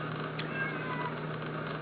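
A cat meows once, a short faint cry over a steady low hum and background hiss, with no talking.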